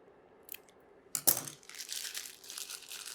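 Scissors snip a small hole in a plastic piping bag filled with chocolate, a sharp close cut followed by crinkling and rustling of the bag, with a faint tap just before.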